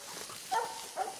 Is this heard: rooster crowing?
no